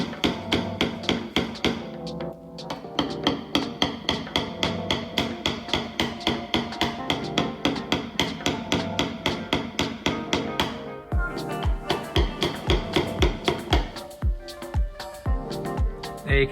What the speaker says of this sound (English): this all needs to be tapped down flat and moved back into the dent